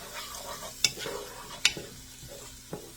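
Minced garlic sizzles in a chili pot with a soft, continuous fry, while three sharp spoon scrapes against the pot ring out over it.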